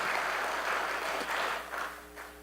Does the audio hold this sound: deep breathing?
no